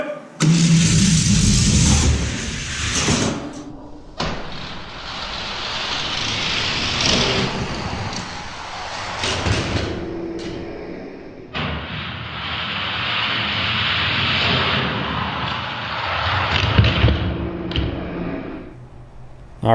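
Hot Wheels toy cars, a Chevy Nova and a Honda S2000, drag racing down a fat plastic track, with a loud continuous rolling whir that runs twice in close succession with brief breaks, under excited background noise.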